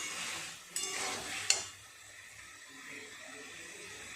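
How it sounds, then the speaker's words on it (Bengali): Spice paste being stirred and fried with drumstick pieces and mustard in a pan: a steady close sizzle and hiss, with two sharp scrapes of a spoon against the pan early on, after which the frying quiets to a softer simmering hiss. "মশলাটা দিয়ে আর একটু সময় এইভাবে সবজিগুলোর সঙ্গে নেড়ে চেড়ে ভালো করে কষিয়ে নিয়েছি।"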